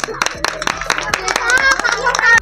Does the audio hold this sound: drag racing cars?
no